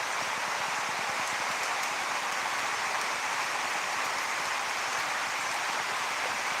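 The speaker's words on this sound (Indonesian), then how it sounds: "Akhir tahun nih hujan terus nih." Year-end rain pours down steadily around a house in West Sumatra, a dense unbroken wash of close, fairly loud patter with no voices.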